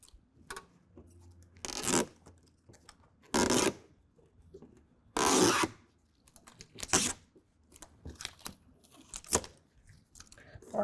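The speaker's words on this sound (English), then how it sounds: "we're going to go ahead and Slowly peel this back" Adhesive backing slowly peeled off a Husky Liners fender flare on a 2024 Ford F-150, heard as several loud, broad tearing rips in separate bursts with quieter rustling and handling noise between them.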